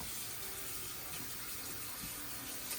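Tap water pours steadily into a pot of pork bones for tonkotsu ramen broth, a continuous close hiss and splash with no talking.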